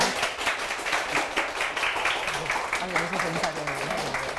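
Studio audience applause welcoming a journalist lecturer onto the stage at a Korean lecture show, steady dense clapping at moderate level lasting throughout, with some chatter mixed in.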